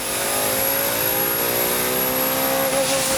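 A twin-turbocharged 2013 Ford Mustang Boss 302 runs at high revs on a dyno at a Mustang car show, producing a loud, steady, continuous engine drone with a whine on top throughout.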